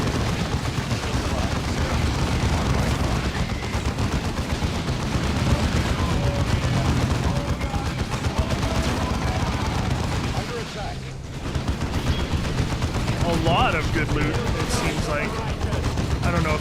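Dense, continuous battlefield gunfire from Warhammer 40k: Dawn of War II rolls on without pause, rapid shots and booming impacts layered into a loud wall of combat noise, with voices mixed in.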